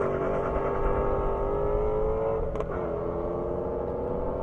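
A Ford Shelby GT350 roars down a half-mile airport drag strip, its engine holding a loud, steady high-revving drone for the whole stretch, with a brief sharp crackle partway through.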